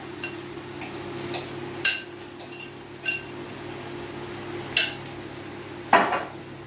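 Devil's horns pastries are lowered gently into a frying pan with a few light clinks and taps of utensil on metal, ending in one firmer knock, over a faint background sizzle.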